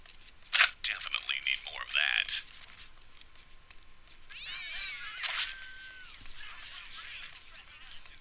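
Several cats meow in the Postal 2 video game: sharp, bright cries come in bursts near the start, followed by a longer wavering wail and a sustained tone, fairly loud against a quiet background.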